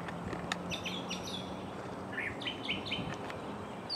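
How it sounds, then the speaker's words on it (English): A tiny bird chirps loudly from a branch overhead on a humid morning, sharp bright tweets coming in quick bursts and short trills, fairly close and alone over a soft outdoor hum. "That bird right up there, little bitty bird, is making a heck of a racket."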